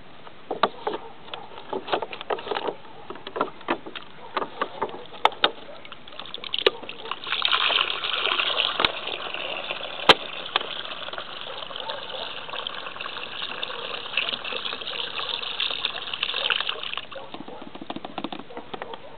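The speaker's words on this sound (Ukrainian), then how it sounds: "Тепер я сливаю водорості." Water with home-grown algae being poured out in a steady gushing, splashing stream that swells in the middle and runs for most of the stretch, close and fairly loud, with no talk over it.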